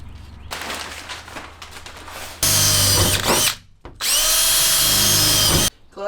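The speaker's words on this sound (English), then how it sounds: "do you want to drill a hole?" A handheld power drill bores a hole during a camper van build, first running at a lower pitch, then revving loudly in two long, high-pitched bursts separated by a brief pause.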